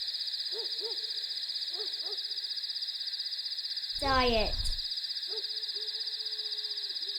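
A barn owl hoots in a short, loud burst near the middle, standing out against a steady high whine and a few faint soft calls, with a voice briefly audible.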